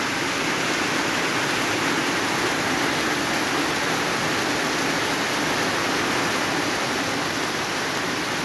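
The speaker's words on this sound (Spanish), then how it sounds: "miren, ya llovió fuerte" Heavy rain pours outdoors in a dense, steady hiss with no pauses, close and even throughout, with nothing else standing out over the downpour.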